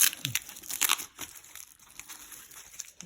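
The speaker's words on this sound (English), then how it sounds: "I'm going to do a test and see how well this tape sticks to it real quick" Tape being handled and pulled against a clean desk lamp surface, heard as close, crinkly rustling and brief tearing bursts in the first second, then quieter sparse crackles.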